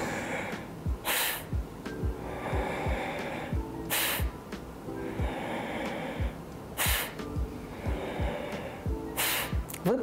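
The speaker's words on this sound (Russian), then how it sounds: "Резкий выдох мы совершаем носом." Sharp, forceful exhales through the nose during a breathing exercise come in a steady rhythm of roughly four bursts, each a brief hissing puff, close and clear, with quieter breathing between them and nothing spoken.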